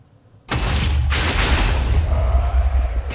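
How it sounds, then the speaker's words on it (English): An explosion goes off in the Minecraft FTB Sky Odyssey modpack, a sudden loud boom after brief quiet that breaks into sustained crackling, rumbling debris noise. "This explosion shouldn't hurt us because of our..."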